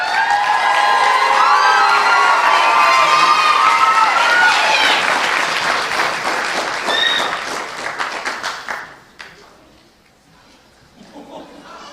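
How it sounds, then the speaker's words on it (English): An audience at an 8th grade graduation ceremony applauds and cheers loudly for the graduating class, with whoops and shouting over dense clapping that fades out toward the end. "Can we have a big round of applause for the graduating class of 2023?"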